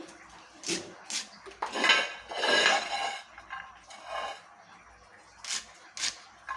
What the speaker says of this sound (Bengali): এখন আমি পেঁয়াজ কলিগুলোকে ভালো করে কেটে নেব